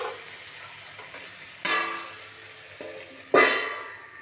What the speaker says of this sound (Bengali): এই যে আলু ভাজা করছি আমি